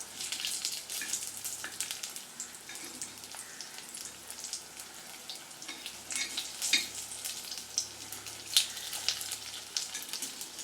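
Sukhiyan fry in oil in a paniyaram pan, a continuous soft sizzle with crackling pops, close and quiet, and no voices.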